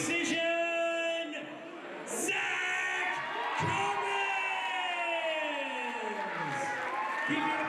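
A fight crowd cheers the split-decision winner at a Bad Intentions: Night of Champions event, with steady loud roaring, whoops and shouted voices carrying through the whole stretch.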